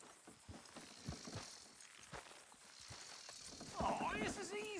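Horses in a Red Dead Redemption 2 game scene clip-clop along at a steady walk with a rider, a short whinny rising near the end, all under speech that runs through most of the stretch.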